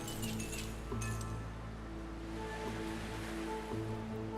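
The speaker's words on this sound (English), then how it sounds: "Like picking up that glass, that was very satisfying." Glass being picked up in a video game, a bright clink over steady wave-like ambient game audio, with a few short chiming tones scattered across the clip.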